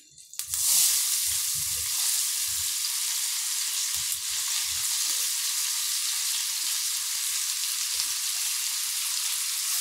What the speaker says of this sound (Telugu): ఈ స్టేజ్లో ఉన్నప్పుడు కట్ చేసుకొని ఉంచుకున్న ఉల్లిపాయ ముక్కల్ని కూడా వేసుకుందాం